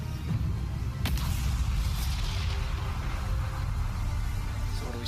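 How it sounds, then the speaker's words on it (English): A violent storm in a video game roars with continuous whooshing wind and heavy rumbling booms, with a sharp crack near the start, loud and dense throughout with no talk over it. "This storm is getting crazy."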